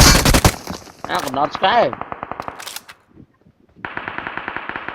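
Gunfire in the mobile game PUBG Mobile comes in loud rapid bursts of shots with a short pause, while players shout and talk over it.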